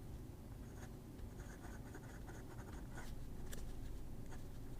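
A Montblanc 146 fountain pen with a 14 karat medium nib scratching faintly across paper, a continuous soft writing hiss with small stroke accents, close and quiet.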